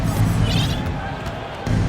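Crowd noise from a Boston home arena in the basketball game NBA 2K23, a steady loud roar of fans filling the space, with a brief bounce-like thud near the start and a commentator's voice mixed in.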